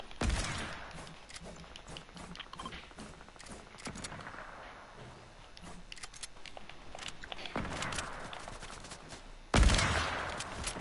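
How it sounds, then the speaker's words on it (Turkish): No-scope sniper rifle shots in an online shooter game: a few heavy gunshot cracks stand out, the loudest near the end, over steady game background noise with no talking. "Oğlum noskop sıkıyorum daha iyi"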